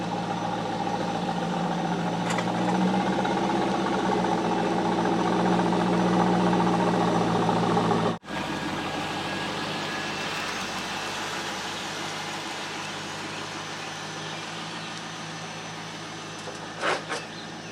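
Engine drone from a C5 Corvette fitted with autocross coilovers, heard from inside while driving: a steady mid-pitched hum and road rumble that carry on throughout, with a brief dropout partway and no talking.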